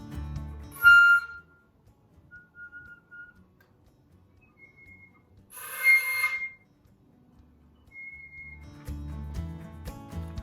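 Thin, airy high whistling tones drift in and out between breathy bursts, a few faint sustained pitches separated by quiet gaps.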